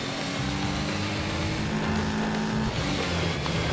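A Toyota Celica rally car roars continuously in the GRAVEL racing game, its engine held loud and steady at high revs with a dense, gritty drone throughout and no speech.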